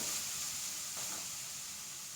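Grated carrot sautés in a little oil in a pan, giving a soft, steady sizzle and a brief stir, close but faint, with no talking.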